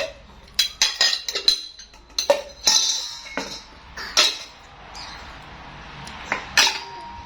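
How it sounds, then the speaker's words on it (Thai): Bowls, cups and cutlery clinking and knocking together as dishes are washed by hand, a run of sharp, close clatters in irregular bursts. "ข้าวเสร็จก็พากันล้างจานนะ"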